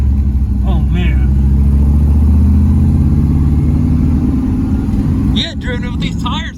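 A customised car drives along the road toward Greenville with a loud, close engine rumble and a steady low drone that dips near the end. People talk briefly over the engine.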